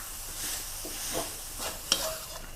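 Galangal chili paste with salt and sugar stir-fried in a pan gives a soft, steady sizzle with faint scraping of the stirring utensil, quiet and close, with no talking.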